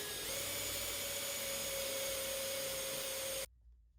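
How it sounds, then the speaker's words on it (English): A 3/4 inch Forstner bit drills a mortise hole into the center of a wooden cake stand top, giving a steady loud power-tool whine that holds for about three and a half seconds, then stops abruptly. "I use a 3/4 inch Forstner bit and I drill a hole in the center of the top"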